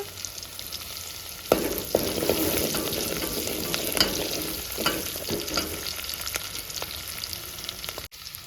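Crushed garlic frying in oil in a pan, a continuous close sizzle with occasional sharp pops and stirring scrapes, no voices.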